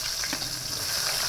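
Garlic and ginger sauté in a hot pan, giving a steady close sizzle and crackle of frying with faint stirring, and no voices.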